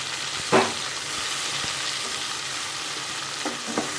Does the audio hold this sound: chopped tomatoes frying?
yes